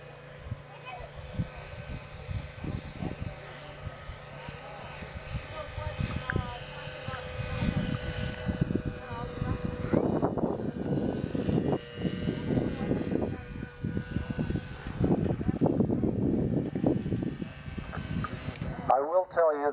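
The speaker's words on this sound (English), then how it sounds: "he thought you'd enjoy seeing a helicopter fly" A helicopter with a newly broken-in engine flies at an air show rally, its engine and rotor noise rising from faint to louder and more prominent partway through, with people talking over it.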